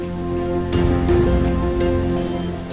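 Steady rain falling on surfaces, a dense continuous hiss and patter with tonal background music underneath, fairly loud throughout.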